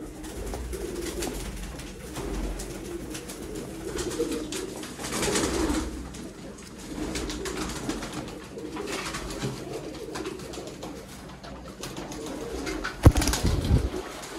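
Rampuri pigeons coo steadily from a flock of about 120 birds, a continuous layered murmur of calls with a brief louder rustle near the end.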